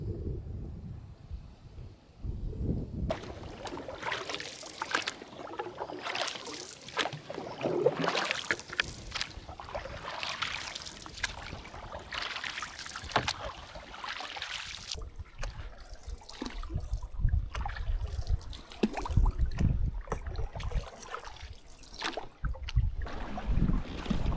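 Strong wind gusts over a lake in Wabakimi during a canoe trip, a steady, rough roar with surging broadband buffeting and possible paddle and water sounds, loud and close throughout.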